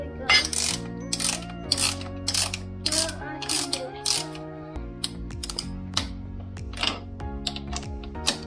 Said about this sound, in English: We're going to loosen the axle bolt a bit.